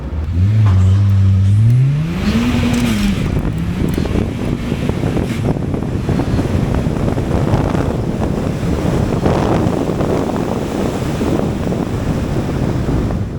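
A turbocharged K20-swapped Honda Civic EG accelerates hard on a drag run, its engine note rising steeply through the gears before dissolving into loud, rushing wind noise as speed builds.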